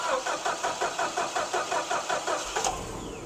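A car engine cranks with a steady rhythmic churning, about a dozen pulses, then catches and fires up, heard loud and close with no one talking.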